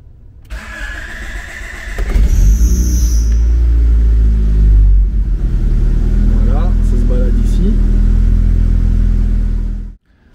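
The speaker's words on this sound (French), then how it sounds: "Je démarre la voiture." A car engine cranks over after a quiet start, catches, and settles into a loud, steady idle rumble close by in a home-garage setting with a Speeduino-managed engine, then cuts off abruptly near the end.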